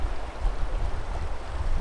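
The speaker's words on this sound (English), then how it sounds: "So the river is pretty good." A river flows past a campsite with a steady, low, rushing wash of water, continuous and fairly close, with no speech over it.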